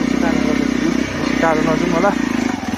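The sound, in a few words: Royal Enfield Hunter motorcycle riding off-road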